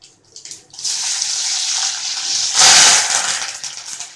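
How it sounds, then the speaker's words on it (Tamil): Chana dal, urad dal, cumin, dried red chilies and curry leaves fry in hot oil for vermicelli rava upma, making a steady close hissing sizzle that builds after a brief quiet start and swells louder near the end. "நல்லா பொரியட்டும்."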